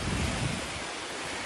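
Strong typhoon wind roars as a loud, close, rushing blast across the whole clip, with heavy buffeting against the microphone in Palawan.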